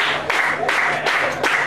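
Crowd at a women's wrestling championship match in Ipswich, UK, cheering and applauding in steady surging waves, with roars swelling roughly every half second to second, dense and continuous throughout.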